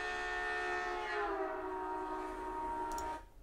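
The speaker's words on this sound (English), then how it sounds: "We're going to be listening to the sound of the train as it comes in here." A recording of an approaching train plays its horn, a loud sustained chord whose pitch drops as the train passes, the Doppler effect, before it cuts off abruptly.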